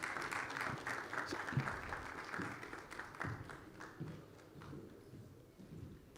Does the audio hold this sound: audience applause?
yes